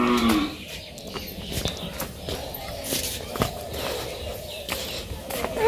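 Cattle lowing on a Bangladeshi village farm, a few moos spread through the clip amid shuffling and footsteps, with people talking nearby and faint birds in the background.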